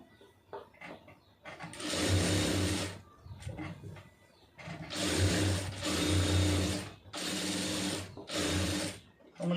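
A sewing machine stitches cloth in several loud whirring bursts of a few seconds each, separated by brief pauses with quieter handling noises.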